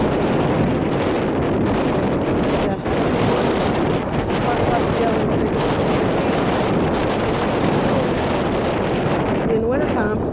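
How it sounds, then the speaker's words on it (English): Steady wind gusting over a microphone outdoors in the countryside near a cedar tree, a continuous broadband roar that stays loud and unbroken throughout. "Well, the wind started blowing."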